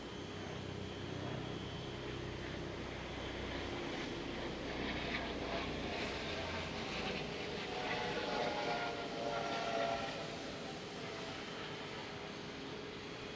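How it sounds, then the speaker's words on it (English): A Eurocopter 135 air ambulance helicopter drones steadily overhead near Amsterdam Schiphol Airport, a continuous broadband engine and rotor rumble at moderate distance with no voices. "And I do hear a helicopter."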